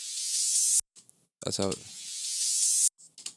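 Soloed white noise sweep without tremolo, from a remake of a Central Cee trap beat: a steady, loud hiss plays, breaks off while someone speaks briefly, then returns as an even, unbroken wash of noise.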